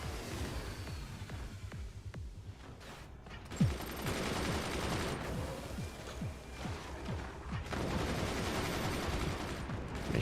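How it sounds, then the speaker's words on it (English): Rapid bursts of machine gun fire in the real-time strategy game Forts, rattling steadily with repeated sharp shots amid a dense battle din of explosions and crashes, loud and continuous without speech. "Machine gunners keeping things safe."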